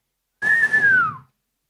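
A single clear whistled note, held briefly and sliding slightly downward at the end, alone in silence.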